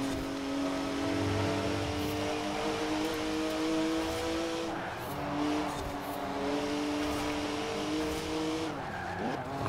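A Porsche in Forza Horizon 4 holds a steady, loud engine drone with rising and falling pitch through gear changes, with tires squealing as it corners at speed.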